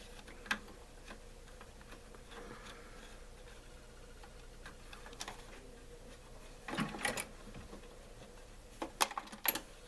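A sewing machine stitches across the base of a small handmade basket. The whirring is faint and intermittent, with short bursts of stitching separated by quiet pauses and light mechanical ticks.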